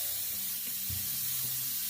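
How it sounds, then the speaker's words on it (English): Steam rushes out through the opened pressure valve of a Bellman CX25P stovetop coffee machine, a steady, fairly loud broadband hiss lasting throughout, with no talking. "we can do that by opening the valve, letting the steam out"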